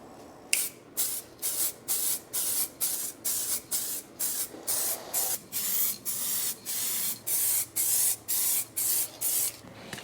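Aerosol can of flat clear coat spraying in quick repeated hissing bursts, about fifteen evenly spaced pulses, close up with no voices.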